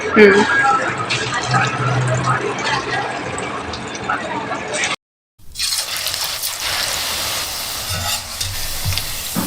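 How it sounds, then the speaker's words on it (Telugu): Pakodas fry in hot oil, a loud, dense sizzle with stirring, broken by a short silent gap and then resuming, with a voice talking over the cooking. "ఆయిల్ వేడెక్కింది, స్టార్ట్ చేద్దాం పకోడీ"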